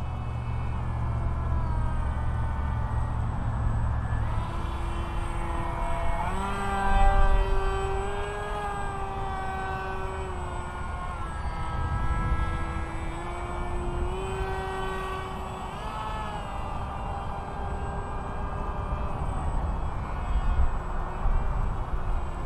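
An RCPowers MiG-29 V1 RC model airplane flies overhead with a steady whining motor drone that rises and falls in pitch as it passes and turns, at moderate distance and without talk.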